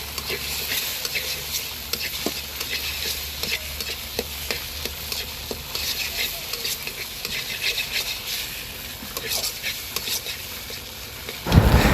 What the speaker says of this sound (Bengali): এখন দুইটা ডিমকে ভালো করে বেজে নেব